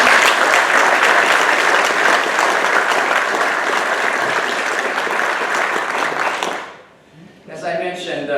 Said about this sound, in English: Let's give each of you a warm round of applause.